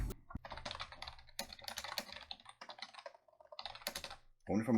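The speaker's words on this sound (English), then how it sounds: "I wonder if I'm gonna keep the keyboard sounds in." Fast bursts of typing on a computer keyboard, clicking keys in uneven clusters with short pauses, close and fairly quiet, ending in a louder clatter.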